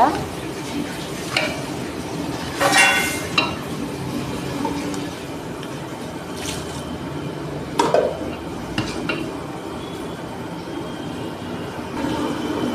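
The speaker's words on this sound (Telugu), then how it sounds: "ఆ మసాలా వాసన పోయేదాకా వేపాలన్నమాట." Masala and cabbage being fried and stirred in a pan for a moong dal and cabbage curry, with scraping clatters of a spoon against the pan over a steady low sizzle, close by.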